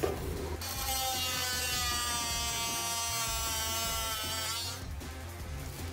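Ryobi R18MT-0 18V cordless oscillating multi-tool with a plunge blade cutting through material, a loud high-pitched buzzing rasp that starts abruptly, holds steady for several seconds, then cuts off near the end.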